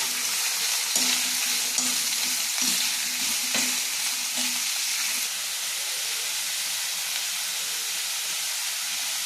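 Chopped onion and chayote drop into a hot pan and sizzle loudly, followed by a steady frying hiss with a few stirring scrapes early on, close up and without voices.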